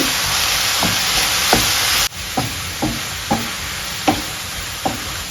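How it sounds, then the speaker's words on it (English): Spicy turkey sauce being stirred in a pan over a constant loud sizzle and hiss, with a series of distinct scraping strokes from the spoon at roughly even intervals after a short break. "Stir everything in."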